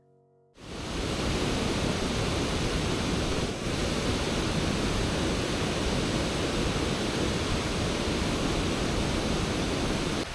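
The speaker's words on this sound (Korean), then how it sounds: "시원하게 쏟아지는 폭포의 모습이 정말 아름다웠어요." A loud, steady roar of a waterfall pouring, close and continuous, with broadband rushing that never lets up after a quiet start.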